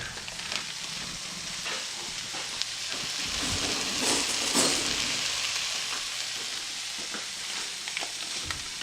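Butter sizzles in a pan of rice and corn, a steady close frying hiss that swells briefly in the middle with faint stirring scrapes, no voices.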